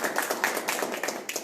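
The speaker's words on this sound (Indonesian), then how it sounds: "Tepuk tangan dong." A seated audience at a business mentoring session claps in a brief burst of quick, moderately loud hand claps.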